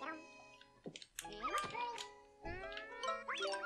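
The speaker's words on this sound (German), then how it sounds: "das ist ein Hund" A dog barks in Yoshi's Crafted World, with a few short yips and whimpers over bright game music and background chatter.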